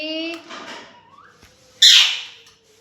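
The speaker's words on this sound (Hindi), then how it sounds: "येलो वो जो है ना ब्लू वाला तोता, वो भी बोलता उठो जी" A pet blue parrot lets out one sudden, loud, harsh squawk near the end, after softer chattering, voice-like calls close by.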